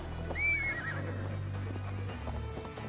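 In Assassin's Creed Valhalla, a horse gives a shrill whinny that falls away, followed by scattered hoof clip-clops over low ambient game sound, with no voices.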